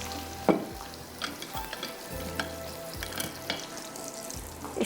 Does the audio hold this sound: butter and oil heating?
yes